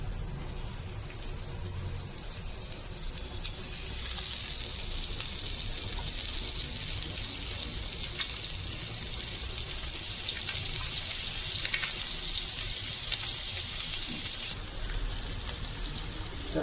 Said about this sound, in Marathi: तर आपण मांदेली फ्राय करायला ठेवली आहे